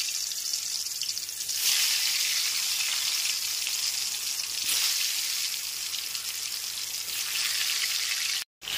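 Potato pieces coated in salt and turmeric fry in hot mustard oil, giving a steady, close, loud sizzle with a brief surge as the pieces settle, then an even crackle throughout.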